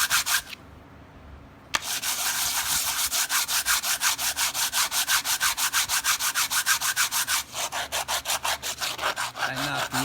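An 80-grit sanding block rubs back and forth across glazed, squeaky brake pads, a steady rhythmic scraping of rapid strokes, close and loud, after a brief quiet pause at the start.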